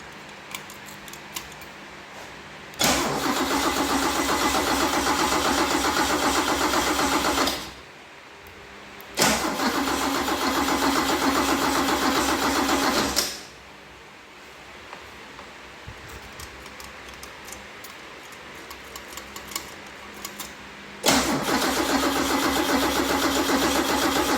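A Chrysler Valiant slant six engine cranking and trying to start after reinstallation, with possible fuel starvation: three long, loud bursts of steady cranking churn separated by quiet pauses, close up with no talk.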